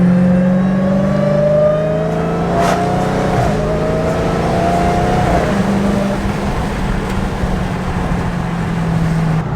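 A Dodge Hellcat Charger fitted with an aftermarket intake holds a loud, steady engine drone, then revs and climbs in pitch before the note drops back to a deep rumble as it downshifts, close up with no talking.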